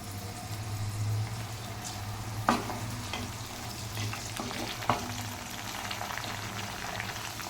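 Sliced onions and curry leaves fry in hot oil for a chicken gravy, giving a steady, close sizzle with a couple of sharp pops and faint stirring taps throughout.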